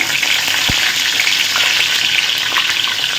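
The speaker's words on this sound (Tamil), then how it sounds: "கடுகு வடிக்குது பாருங்கள் இப்போது கருவேப்பிலை போடுங்க" Curry leaves hiss and sizzle in hot oil with mustard seeds spluttering, a steady loud crackling fry with scattered sharp pops, close and continuous without any talk.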